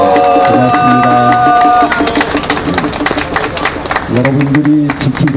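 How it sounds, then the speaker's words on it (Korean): A crowd at an outdoor street prayer rally claps in sustained, dense applause, with a voice speaking over the clapping through much of it. "우리 사랑의 마음을 담아서 이분들에게 한번 힘찬 박수 주시기 바랍니다"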